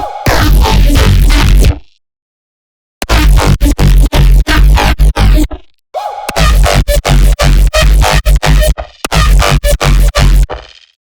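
A heavy, complex neurobass synth patch from Serum 2, loud and dense with broadband growling texture, played in four choppy phrases with rapid rhythmic stutters and short silent gaps, no voices.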